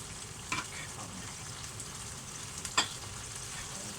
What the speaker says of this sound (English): as that's starting to fry, I'm going to whack in the beef